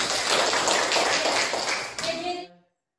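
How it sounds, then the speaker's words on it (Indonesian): Classroom students clap for a presenting group, a brief burst of many hands that stops abruptly after about two and a half seconds, with a short voiced sound as it ends. "Ya, kita beri tepuk tangan."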